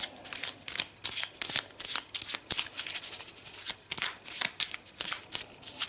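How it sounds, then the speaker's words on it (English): A deck of game cards for an Arkham Horror board game is riffled and shuffled in quick bursts of crisp flapping and snapping, close up, rhythmic and repeated over several seconds. "Give it a quick shuffle."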